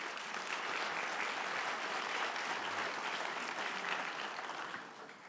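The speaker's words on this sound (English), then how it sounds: "So let's give them all a round of applause, please." An audience at a panel event applauds honoured guests, a dense, steady wash of many clapping hands, fairly close and even, tapering slightly toward the end with no voices over it.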